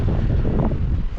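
Strong wind buffets the microphone on a cold, windy beach coast, a steady loud rumbling roar with no voices.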